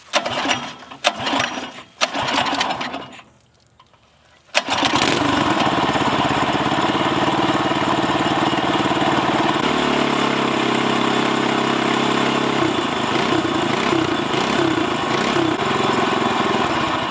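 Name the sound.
outboard motor engine running at high RPM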